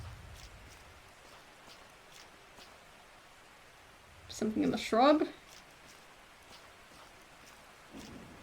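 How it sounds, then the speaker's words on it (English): Steady rain in the 2001 adventure game The Mystery of the Druids makes a soft, even hiss in the background, while someone briefly speaks over it. "Sounds like it's been raining a lot."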